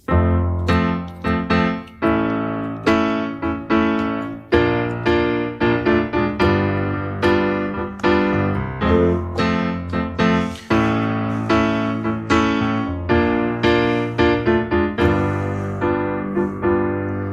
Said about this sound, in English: So I'm going to play the rhythm of the melody with the chords.